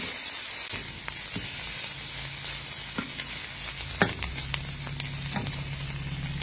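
Steady close sizzle of food frying in a pan, a pork sour sausage (som khai) marinated three days, with intermittent clatter and scraping of stirring over the continuous hiss.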